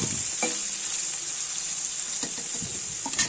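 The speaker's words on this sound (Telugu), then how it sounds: "పచ్చిమిరకాయలు ఉల్లిపాయలు ఇవన్నీ కూడా నూనెలో వేసుకుంటున్నాను" Green chillies, onions and cumin frying in hot oil, a loud continuous sizzle close by with a few stirring scrapes and clatters of a spoon against the pan, no voices.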